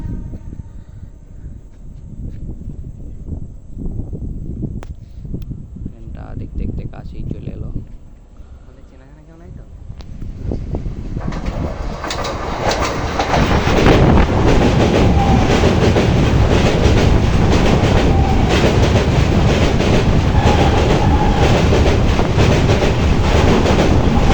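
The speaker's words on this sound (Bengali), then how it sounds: "ট্রেনটা সামনে থেকে আসছে দেখতে পাবে এই দেখো ট্রেনটা আসছে" A train approaches along the rails and then thunders past close by, a low rumble swelling into a loud, sustained roar with clattering wheels, while people talk over the early part.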